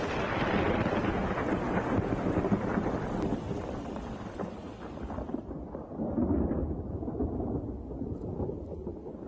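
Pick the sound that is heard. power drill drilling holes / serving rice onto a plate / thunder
thunder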